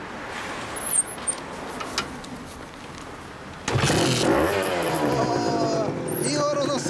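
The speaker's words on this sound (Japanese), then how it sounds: "エンジン音聞かせてもらえる？" After quiet background noise, a 1991 Honda NSR250R SE two-stroke motorcycle engine bursts into loud, raspy revving that keeps going steadily to the end.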